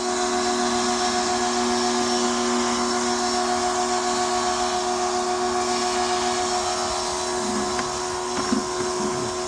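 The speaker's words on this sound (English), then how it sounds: "Sorry if you can hear the compressor in the background." An air compressor's steady mechanical hum with a constant tonal drone runs throughout nearby, with faint clanks near the end.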